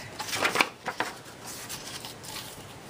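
Scissors cutting out a small paper mini tag for an album, with a few crisp snips close by over the first second, followed by quieter rustling paper handling.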